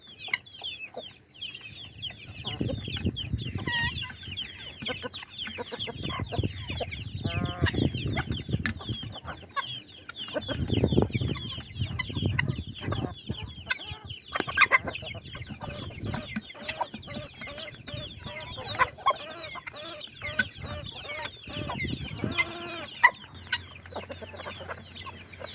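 Guinea fowl calling outdoors, a busy stream of repeated harsh, rattling cries and clucks from several birds, moderately close, with low rumbling background noise and no talking.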